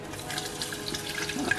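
Milk poured into a pan while making a sauce for a potato gratin, a soft, close liquid trickle lasting under two seconds.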